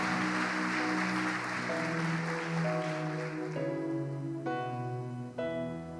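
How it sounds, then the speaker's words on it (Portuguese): A church congregation claps during a celebration service, a soft wash of applause that fades as sustained worship music with held keyboard notes rises and carries on. "Você pode dar um aplauso ao Senhor?"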